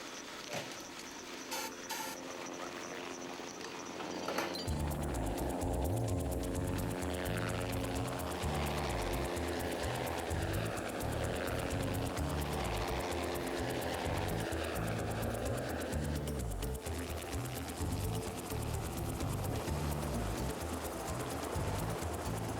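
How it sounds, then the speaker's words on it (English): A helicopter's rotor thumps in a fast steady rhythm with a whining engine, loud and close, continuing without pause for a long stretch, as it flies over elephants about to be darted in the wild. "The noise of the chopper is a dramatic intrusion into the elephant's natural space"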